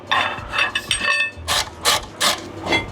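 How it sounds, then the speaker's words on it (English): Tight brake caliper mounting bolts being forced loose with a tool during a brake pad and disc change, giving a run of sharp, loud metallic bursts and ratcheting scrapes in a steady rhythm, close by with no talk. "I've got to remove the two bolts that hold the caliper mounting on. So these are tight, and I resort to"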